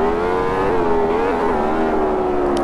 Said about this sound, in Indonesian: ini sih suara knalpot sih mantep banget